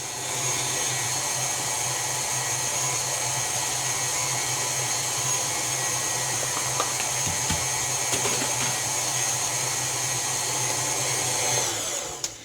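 An electric mixer whirs at high speed through cherry vanilla yogurt almond cake batter, a loud steady close drone that carries on alone and cuts off at the end.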